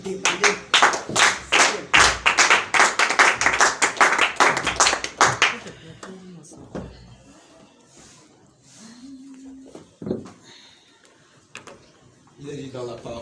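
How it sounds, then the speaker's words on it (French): An audience claps and applauds together to welcome a speaker, with dense, loud, rapid clapping that stops abruptly halfway through, followed by quieter room noise and a few scattered sounds. "je souhaiterais que nous puissions l'acclamer pour l'encourager afin qu'il vienne"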